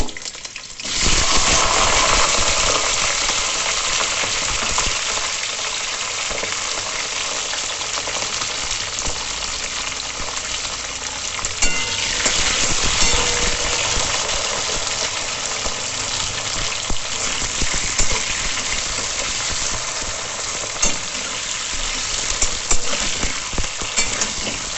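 White beans frying in hot oil with black cumin and slit green chilli, a loud continuous sizzle with occasional stirring scrapes, steady throughout with no talk.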